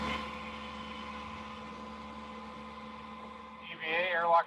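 Steady low mechanical hum fills a Mars analog habitat on a Hawaiian volcano, a constant droning ambience with tonal whine, joined by a brief louder burst of higher noise at the end.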